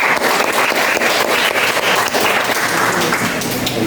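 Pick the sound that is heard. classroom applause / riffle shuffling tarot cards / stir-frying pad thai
classroom applause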